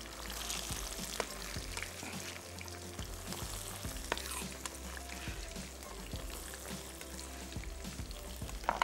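Chopped tomato, capsicum and carrot go into frying onions in a pan, making a soft, continuous sizzle with small spoon scrapes and light clicks throughout.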